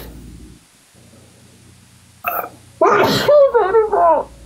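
A person sneezes once, loudly and close, after a quiet stretch with faint background hum. Strained, moaning vocal sounds follow right after the sneeze.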